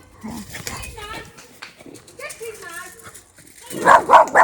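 Loud barking from a dog at the house next door bursts out near the end, after a stretch of people talking quietly.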